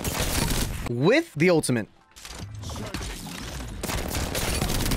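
Rapid automatic R9 gunfire from the Apex Legends video game rattles at the start and again near the end, with a player's voice talking in between the bursts.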